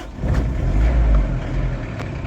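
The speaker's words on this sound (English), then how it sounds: "I am going to go ahead and start up this Canter now." A 1998 Mitsubishi Canter truck with a 4M40 diesel engine fires up and settles into a loud, steady low rumble that carries throughout.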